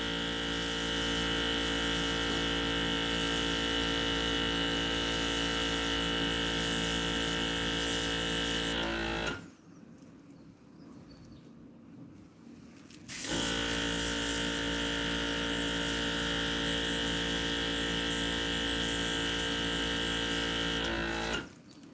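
An electric air blower drying alcohol ink on Yupo paper runs as a steady, loud, close motor whir with a high whine, cuts out for a few seconds, then starts again and runs until stopping at the end.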